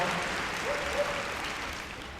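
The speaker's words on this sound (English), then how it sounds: "a big round of applause" An indoor arena audience at a Crufts agility final applauds after a dog's run, a steady, moderately distant wash of clapping with no voices over it.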